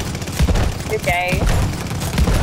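Rapid gunfire in Call of Duty Vanguard, dense shots rattling throughout against enemies that soak up headshots, with a voice briefly speaking over the shooting.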